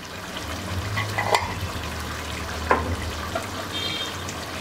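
Garlic powder stirring into frying chicken karahi in a pan, a soft steady sizzle with a low hum underneath and two brief scraping clinks of a spoon.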